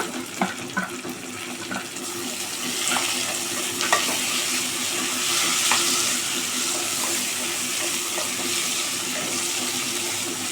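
Tomatoes and onions with green chilies sautéing in a pan, a steady close sizzle like running water with a few early stirring taps, growing fuller and more even as it goes; no one talks.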